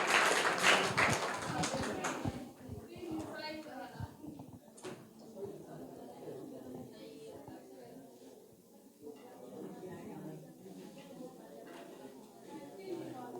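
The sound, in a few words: audience applauding the student with the correct answer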